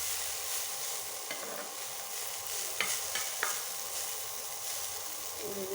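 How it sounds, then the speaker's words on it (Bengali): Garlic leaves sizzle and fry in oil in a pan, a steady soft hiss with a few sharper scrapes of a stirring spoon against the pan, close and alone without talk. "ভেজে নিচ্ছি।"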